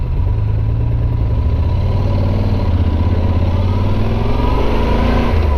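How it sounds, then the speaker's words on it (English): An old Kawasaki Concours motorcycle, its engine giving a steady, loud, low rumble close by with no pauses. "That is a old, I think, Kawasaki concourse."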